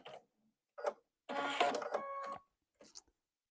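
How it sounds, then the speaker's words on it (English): Sewing machine stitching a seam on a batik quilt border, short bursts of motor whirring and needle clatter between quiet pauses, one longer run in the middle, close and clear. "But right sides together and sew that seam."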